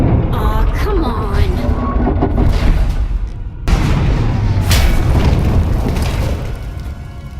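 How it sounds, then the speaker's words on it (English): Loud booming video game explosions, a sharp blast cutting in midway, with rumbling debris and a voice speaking over the din. "We heard explosions."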